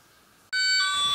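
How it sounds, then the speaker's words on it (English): An alarm sensor suddenly goes off at full volume after a near-silent moment, a loud, close, piercing electronic tone sounding continuously with no talk. "we put the alarm sensor where the cabinet is"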